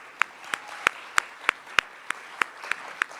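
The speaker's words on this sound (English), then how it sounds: "Give a round of applause for Billin." Slow, evenly spaced hand claps, about ten in three seconds, sound clear and fairly close against a quiet room as an audience applauds a speaker at an academic event on education.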